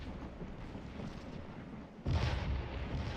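Artillery fire in the Civil War strategy game Scourge of War at the Battle of Stones River: a steady, distant battle rumble that gives way to a heavier, louder boom near the end.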